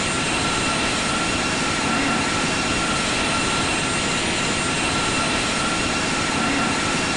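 An airliner in the Infinite Flight simulator descending with spoilers deployed, a loud, steady, dense engine and airflow roar that stays constant throughout without any voices.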